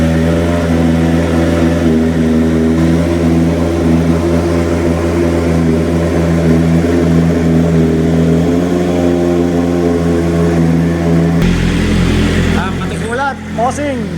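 A motorcycle engine idles right after an oil change, giving a loud, steady, close humming drone that wavers slightly near the end, with people talking over it.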